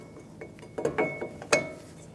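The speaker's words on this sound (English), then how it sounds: "Now I'm going to install my bracket with my pads." A front brake caliper bracket with pads goes into place on a 2015-2024 Jeep Renegade, giving a few sharp metallic clinks and light clanks with ringing tones. The clinks are scattered and close, with a louder knock near the end.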